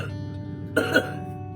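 A short cough over a low background hum, brief and fairly close.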